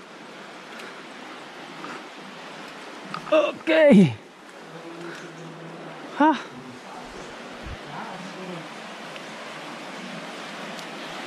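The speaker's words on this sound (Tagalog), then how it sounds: "Yan, naririnig na natin yung agos." Steady broadband rushing of flowing water near a cave by a river, continuous and fairly close, with a person's brief spoken word and a few voices over it.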